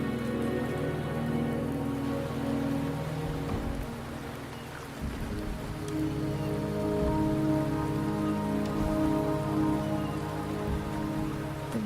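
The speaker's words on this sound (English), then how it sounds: "The rain is subsiding, and the sky will soon clear." Steady rain falls in a Wuthering Waves cutscene, a dense continuous patter on surfaces with a low sustained rumble beneath, holding at an even level throughout with no voices.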